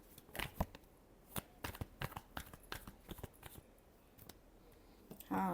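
A deck of tarot cards is shuffled in a long series of faint, crisp taps and flicks close by, finishing with a brief louder rustle.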